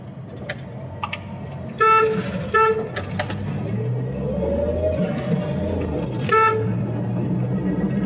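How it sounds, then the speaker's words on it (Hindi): Car horn honking while overtaking on a road: several short toots, then longer blasts near the two-second mark and again around six seconds, over a steady engine and traffic rumble. "तो मैं इसको हॉर्न दूंगा।"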